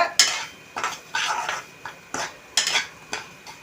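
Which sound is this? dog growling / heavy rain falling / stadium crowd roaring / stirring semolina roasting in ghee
stirring semolina roasting in ghee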